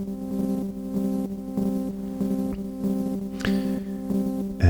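A single repeated synth note, amplitude-modulated and panned left to right, pulses in a steady rhythm with a sustained harmonic tone underneath, moderately loud and alone.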